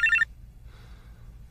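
A telephone gives one short, bright electronic ring burst right at the start, then cuts off into near silence with only a faint low murmur.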